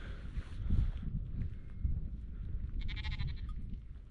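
Sheep bleat close by in the Arctic north of Norway, giving several wavering, nasal bleats over steady low rumble and wind noise.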